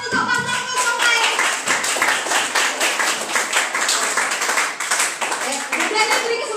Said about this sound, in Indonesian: beri tepuk tangan untuk paslon 0 lain